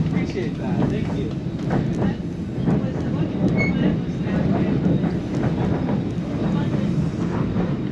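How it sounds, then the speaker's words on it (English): Steady rumble and rattle of the White Pass train heard from on board while it climbs toward the pass, a continuous loud rolling noise with faint clicks and murmuring voices underneath. "So here's the train that we're on, going up to White Pass"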